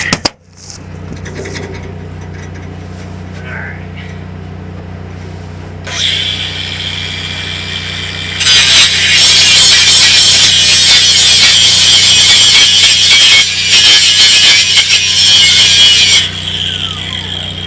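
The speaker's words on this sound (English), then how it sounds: "I'm going to grind this little groove off in there so we can get that back into there" Angle grinder cutting a groove into metal on a combine during field repairs, a loud, harsh high-pitched whine that kicks in partway through and grinds steadily for several seconds over a low engine hum.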